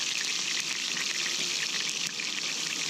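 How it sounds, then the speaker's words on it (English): Peppers dropped into hot oil sizzle and fry at a campsite, a steady, loud, bright hiss with small crackles running continuously and evenly with no voices. "Dropping these peppers in the hot oil"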